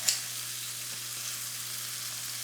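Kimchi stir-frying in a new pan, with a steady, soft, hissing sizzle throughout, a faint clink at the start and occasional light scraping underneath.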